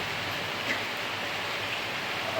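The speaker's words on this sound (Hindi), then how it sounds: "बूंदे तो नहीं दिख रही होगी क्योंकि इतनी तेज़ बारिश नहीं हो रही, हल्की फुल्की हो रही है, लेकिन मोटी मोटी बूंदे आ रही है" Light rain with large drops patters steadily onto a wet road, a faint, even hiss with no voices.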